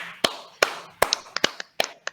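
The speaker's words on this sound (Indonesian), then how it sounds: "Tepuk tangan." About seven sharp hand claps, close and irregularly spaced, a sparse scattering of clapping rather than a full crowd ovation.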